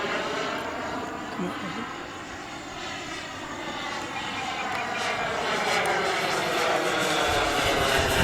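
A Flyfly Hobbies Viper 2.2 RC turbine jet cruises overhead on its maiden flight with a steady, airy turbine roar and whine that swells louder toward the end, with voices talking over it.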